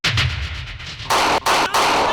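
Gunfire erupts during a police shootout with fleeing criminals in Punjab: several loud, sharp shots and bursts cracking close by, with brief gaps between them.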